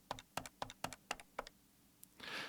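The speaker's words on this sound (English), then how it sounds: "and we can also have the key presses just on their own." Telephone key presses alone, a Foley sample: six or seven sharp plastic button clicks in an irregular rhythm, close and fairly quiet, followed by a faint tick and a soft rustle.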